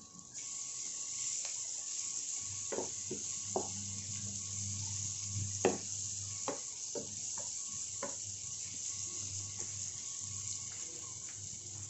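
Small cut pieces of capsicum frying in a pan for an egg and capsicum curry, with a steady hiss and scattered stirring clicks and knocks, soft and close.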